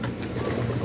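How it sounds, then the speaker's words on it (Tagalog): A young racing pigeon, just back home from a 71 km club training flight, gives a brief, soft, low cooing close by inside the loft. "Ito, lumipat dito yung ibon natin."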